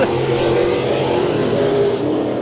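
Race cars in a heat race at Bakersfield Speedway, engines roaring continuously and loudly at close range for the whole stretch, no voices on top.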